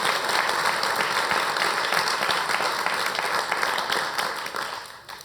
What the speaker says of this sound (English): So big round of applause to everybody.